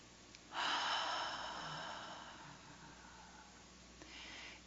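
A single loud, breathy inhalation or exhalation near the microphone, sustained for a few seconds and slowly fading, followed by a softer breath at the end, during a spiritual talk at a Kryon gathering.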